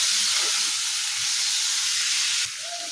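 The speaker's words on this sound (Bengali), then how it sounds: "টমেটো কুচিটা দিয়েও আমি কিছুক্ষণ ভালোভাবে নেড়ে একটু মশলার সাথে ভাজা নেব" Chopped tomato frying with spices in a hot pan, a steady broad sizzling hiss running throughout, dropping slightly near the end, with no talking.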